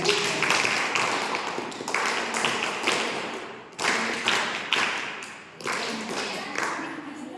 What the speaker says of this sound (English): NSS clapping for both